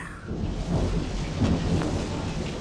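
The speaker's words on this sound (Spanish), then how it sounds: "Se escuchaba el estruendo del rayo" Thunder rumbles under steady heavy rain during a June storm over parched fields, a dense broadband roar with rolling low swells and no voices.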